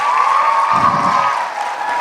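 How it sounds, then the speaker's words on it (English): Loud applause from a school assembly audience: a dense, steady wash of many hands clapping with a faint ringing tone over it, holding for about two seconds. "Give a loud applause."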